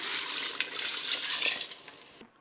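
Water pours steadily into a cooking pot for vegetable biryani, a continuous close splashing rush that tapers off after about two seconds.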